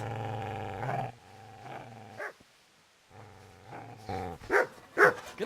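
A dog attacks in the medieval game Kingdom Come: Deliverance, giving loud harmonic barks and snarling growls in bursts, then sharper yelps near the end, with no talk.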